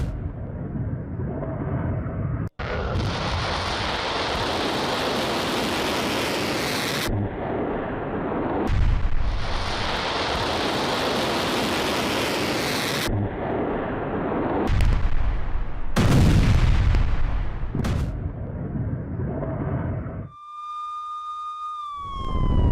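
Iranian missiles strike Israel near Haifa while air defences intercept them: long bursts of loud, rumbling blasts and roaring booms alternate with wailing air-raid sirens, ending in a steady siren tone.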